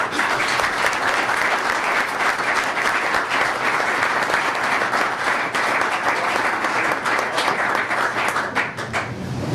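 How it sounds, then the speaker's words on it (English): Applause from an audience at a school board of education meeting, dense and sustained for several seconds at a steady level. "that is the most clapping we've probably had at a board meeting"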